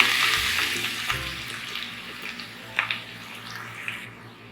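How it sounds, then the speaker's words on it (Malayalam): Two large onions, sliced very thin, sizzle and hiss loudly as they are sautéed in a pan for chiratta biriyani. A few soft stirring knocks break the steady frying, and the sizzle eases slightly toward the end. "2 വലിയ സവാള വളരെ കനം കുറച്ച് അരിഞ്ഞെടുത്തതാണ്. നമുക്കിതിലേക്ക് ചേർത്ത് നന്നായിട്ടൊന്ന് വഴറ്റിയെടുക്കാം."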